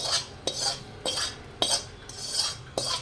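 A metal spoon stirs methi ladu mixture with gum and jaggery in a kadhai, scraping the pan in a steady rhythm about twice a second, close and clear with no talking.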